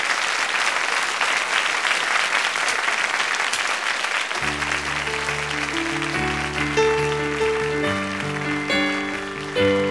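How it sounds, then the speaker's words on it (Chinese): Dense, steady audience applause fills a pub singing-contest stage, continuing loudly as instrumental music enters partway through. "给他掌声加尖叫"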